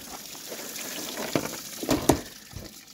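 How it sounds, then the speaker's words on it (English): Water is poured out of a bottle used as a test medium, giving a soft trickling flow with a few brief splashy gurgles near the middle, close and moderately quiet. "Go ahead and get that poured out."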